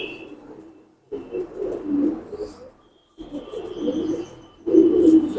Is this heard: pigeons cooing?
yes